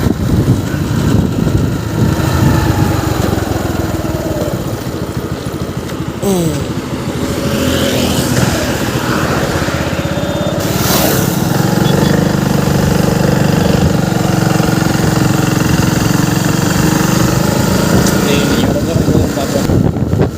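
A TVS XL100 moped engine runs steadily through a mileage test ride, a continuous mid-pitched drone with wind noise and a few brief changes, while someone talks over it throughout.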